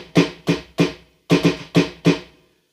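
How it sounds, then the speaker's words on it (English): Snare drum struck seven times in an uneven rhythm, each sharp crack decaying quickly, close and fairly loud with no voices. "and my snare sounds like this,"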